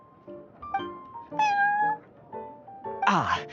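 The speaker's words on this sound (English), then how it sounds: "I thought having a cat take care of our new customers would be quite a nice touch." Cat meows in the Genshin Impact video game at the Cat's Tail tavern, several clear, tonal mews in a row ending in a louder, drawn-out cry, close and prominent over a quiet background.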